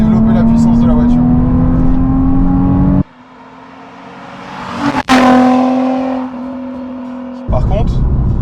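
Nissan 350Z coupé engine revving hard, a loud rising harmonic whine that climbs, drops off abruptly, surges again with a sharp rise and falls back, heard close with no talk.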